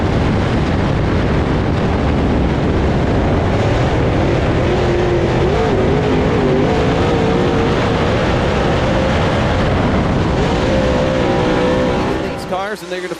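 Race cars roar around Smoky Mountain Speedway, engines loud and continuous as several cars pass close with shifting pitch, while a commentator talks over the racing.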